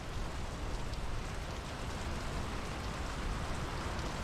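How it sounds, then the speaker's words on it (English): Steady rain falls in the video game Draugen, set in 1920s Norway, making a dense, even hiss of drops on surfaces that stays constant and fairly loud throughout. "It is raining right now"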